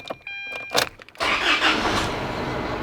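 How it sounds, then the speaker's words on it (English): A car engine cranks over with a brief whir and catch, then settles into a steady, fairly loud idle that runs for the rest of the moment, with a few clicks and small mechanical sounds just before it starts. "So we'll start up the vehicle."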